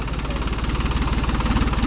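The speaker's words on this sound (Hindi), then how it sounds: "फार्म ट्रक 45 है भाई" A Farmtrac 45 tractor engine fitted with a turbo idles steadily up close, a loud continuous low diesel rumble with a fast, even knocking pulse and no talk over it.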